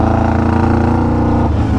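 A 600cc motorcycle-engined go-kart, which had not run since 2003, runs loud and close in second gear with a steady engine drone. Near the end the pitch drops suddenly.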